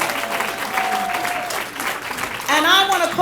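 Clapping from an audience at a Women's History Month celebration, steady and moderately loud, with voices and a brief whoop rising over it near the end.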